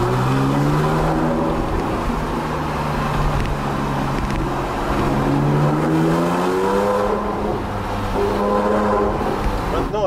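Porsche 997 MKII Carrera with a SCART exhaust cruising gently through a village, a steady loud close engine drone that rises and falls with the throttle, echoing off the houses.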